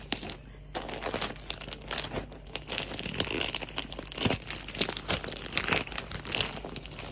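A plastic shipping bag holding a vintage-style t-shirt is handled and pulled open, giving continuous close crinkling and crackling with sharp rustling bursts throughout, with no talk.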